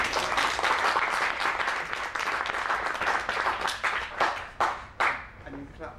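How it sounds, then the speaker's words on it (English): Wedding guests clap in a dense round of applause during the speeches, individual claps audible up close, thinning into a few scattered final claps at the end, with faint voices underneath. "Clap this as well."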